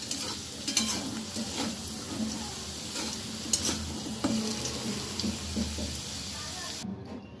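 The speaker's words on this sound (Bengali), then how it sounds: "আলুগুলো আমি লাল লাল করে ভালোভাবে ভেজে নিলাম।" Potatoes fry in hot oil in a pan and are stirred repeatedly, browning to a deep red. A continuous sizzle runs throughout, with scraping stirs and spoon clatters at intervals. Near the end it cuts to near silence.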